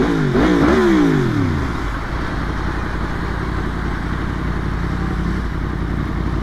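Yamaha FZ-10 motorcycle ridden on a commute through Boston, a loud engine that revs up sharply in a short burst and then settles into a steady, close rumble.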